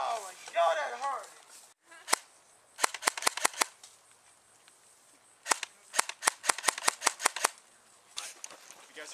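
Rapid bursts of airsoft gunfire during a team deathmatch game, sharp snapping shots in two quick clusters, with a voice speaking briefly at the start.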